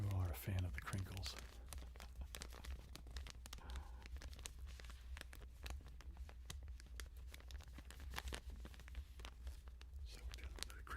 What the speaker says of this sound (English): So we're doing a little bit of crinkling.